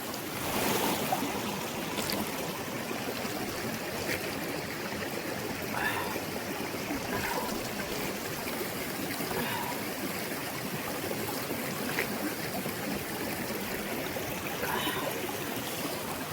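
A forest stream in the Karregutta hills flows steadily with a close, continuous rushing and trickling wash that stays even throughout.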